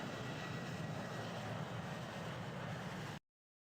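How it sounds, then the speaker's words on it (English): A video-game aircraft engine as the plane taxis, giving a steady, even hum that holds at one level for about three seconds and then cuts off abruptly into silence. "This aircraft needs to taxi."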